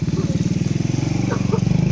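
A motorcycle engine putters nearby with a rapid, pulsing idle rhythm, and faint voices are heard over it.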